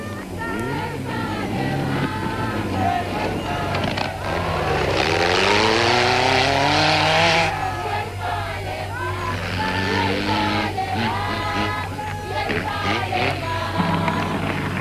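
Rally cars racing on long stage sections at the 1991 Toyota 1000 rally, engines revving and rising in pitch as they accelerate past, with a commentator talking over the motor noise.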